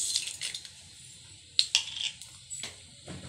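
Mustard seeds and urad dal dropped into hot coconut oil give a few faint, scattered crackles and pops, separated by quiet gaps.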